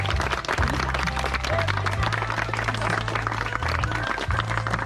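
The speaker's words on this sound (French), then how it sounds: "on peut les applaudir, en effet" Wedding guests applaud the couple with steady, crowded clapping that continues throughout, with music playing underneath.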